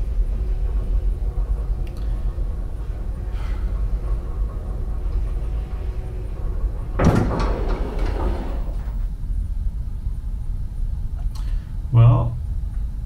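Elevator doors close in an indie horror video game over a constant low mechanical rumble, with a sudden sliding clatter midway and a short heavy thump near the end.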